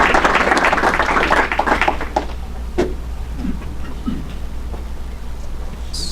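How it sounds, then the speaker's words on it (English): A crowd at a Rotary meeting claps in a dense burst of applause that gradually thins out and fades into room noise. "how about a second round of applause for him?"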